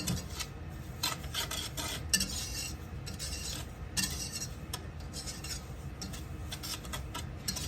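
A utensil stirs banana pudding mixture in a bowl, producing continuous close scraping and soft clinks in a steady rhythm throughout, with no voices.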